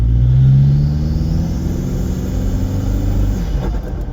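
A Toyota Innova with a modified 2KD diesel engine holds a loud, steady low rumble at close range, its pitch rising slightly as the engine revs, with no talking.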